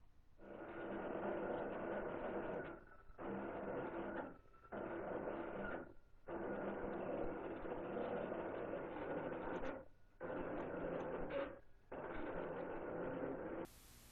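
A Clipper 24-inch vinyl cutter cuts decal vinyl with a whirring, printer-like motor buzz, running in several long bursts separated by short pauses, moderately loud and close with no voices.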